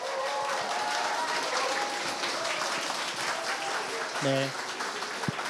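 Live book-talk audience for author Jeong Jae-seung bursting into sustained warm applause that fills the room, a dense wash of clapping throughout, with a short spoken word from the host near the end.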